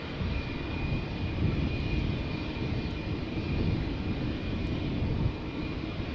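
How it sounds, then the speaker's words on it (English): A Vueling Airbus A320 jet departs Amsterdam Schiphol, its engines producing a loud, steady broadband roar with a faint high whine held throughout, continuous and close with no speech. "Vueling A320."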